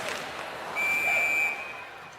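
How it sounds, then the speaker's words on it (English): A referee's whistle in a professional women's ice hockey game, Toronto against New York, called down low; a single sharp, shrill blast lasting under a second cuts over arena crowd murmur. "We get a whistle down low"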